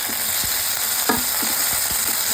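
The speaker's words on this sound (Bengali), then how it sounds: "এখন দিয়ে দিব আদা রসুন বাটা।" Ginger-garlic paste sizzles steadily in hot oil in a pan, a dense continuous hiss broken by a few soft scraping stirs and one sharper clatter near the middle. No one speaks.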